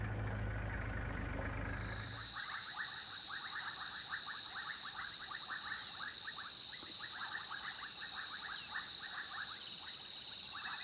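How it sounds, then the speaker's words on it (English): A dense chorus of bubbling kassina frogs with rapid repeated calls and a steady high-pitched insect-like trill, continuous and fairly distant, after a brief low rumble at the start. "there's frogs called bubbling casinas that are just absolutely incredibly loud"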